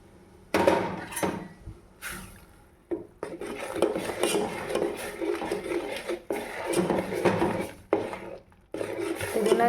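Repeated scraping and clattering of a utensil against a pot, irregular strokes of vigorous stirring of jowar (sorghum) flour in boiling water, close and fairly loud.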